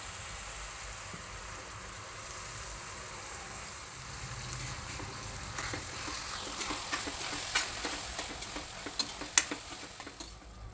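Chopped onions and tomatoes for pav bhaji frying in a pan, a soft, steady sizzle with quiet ticking and stirring clicks that grow sharper toward the end.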